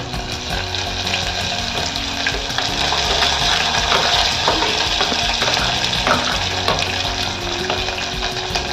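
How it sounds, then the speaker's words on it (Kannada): Onion, green chili and tomato fry in a pan for village-style uppittu, making a continuous, moderately loud sizzle with stirring scrapes and bubbling throughout. "ಮೆಣಸಿನಕಾಯಿ, ಟೊಮೆಟೊ ಮಿಕ್ಸ್ ಹಾಕಿ ಚೆನ್ನಾಗಿ ಹುರ್ಕೊಳ್ಳಿ."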